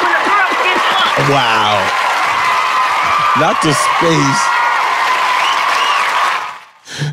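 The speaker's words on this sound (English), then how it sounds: "Let's get some claps," A podcast studio audience claps and cheers in a steady, loud wash of applause, with voices talking and exclaiming over it throughout before it cuts off abruptly near the end.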